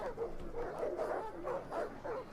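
War dogs barking and yelping in a Total War: Rome 2 battle, a steady run of overlapping barks set against a constant din of combat.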